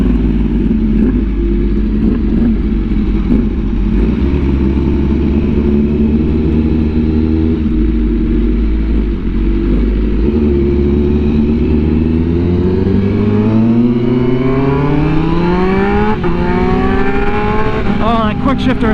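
A Honda Fireblade RR-R SP with an SC Project exhaust roars loud and close, its engine note climbing through rising harmonics in quick-shifted gear changes. Wind noise runs throughout, and speech occurs intermittently.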